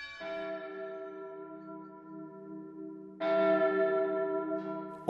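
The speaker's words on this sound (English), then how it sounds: "All other times, bells called the women to work." Church-style bells ring to summon mill workers, sustained tolling tones hanging in the air, then a louder fresh strike near the end renewing the ringing; no voices.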